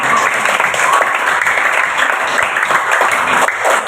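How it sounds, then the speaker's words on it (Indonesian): Applause and clapping from a classroom of students during a maths lesson, steady and dense throughout, filling the room without a break. "Kasih aplaus dulu buat kita."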